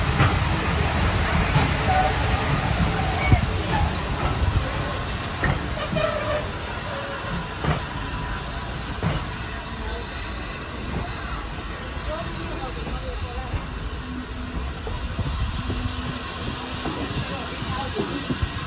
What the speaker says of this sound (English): This train is just incredible. It is over 100 years old and it is still running, still going.